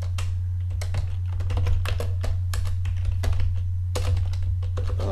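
Fast typing on a computer keyboard at a command-line prompt, a close, steady patter of key clicks with occasional pauses over a constant low electrical hum.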